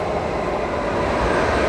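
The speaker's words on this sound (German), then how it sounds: "Und es kommt auch schon direkt ein Zug hier" A train rumbles by beneath a bridge in Berlin, a loud, broad, continuous roar of rolling wheels and carriages that builds slightly as it passes close.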